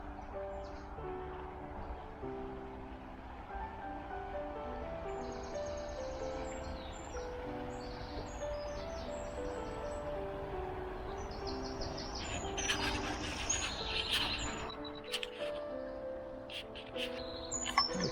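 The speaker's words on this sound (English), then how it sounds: "there are a few birds chirping away" Several small birds chirp and tweet in short bursts over a steady low rush of flowing water, growing busier toward the end.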